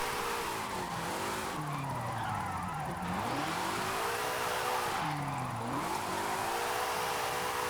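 A car drifts and slides around corners in Forza Horizon 5, its engine note rising and falling in long sweeps over steady, loud tire squeal that runs through the whole stretch.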